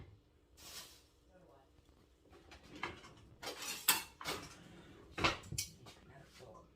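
A knife chops fresh turmeric root on a cutting board in a home kitchen, making a few sharp, scattered knocks against the board. The hits come in uneven clusters with quiet gaps between them.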